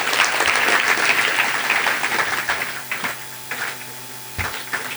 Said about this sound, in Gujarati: એ પહેલાં આપણે એમને એકવાર જોરદાર તાળીઓથી વધાવી લઈએ